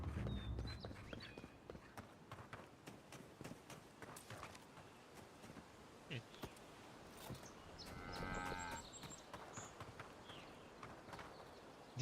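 Cattle lowing in the fantasy video game Avowed: a few faint moos rise over a busy backdrop of hoof clops and scattered footsteps, with no one talking.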